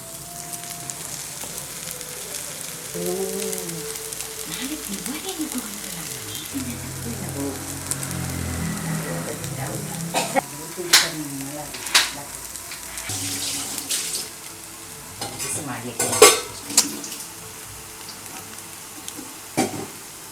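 Food frying in a pan at home, a soft steady sizzle with occasional stirring clatter and sharper pops, fairly quiet throughout.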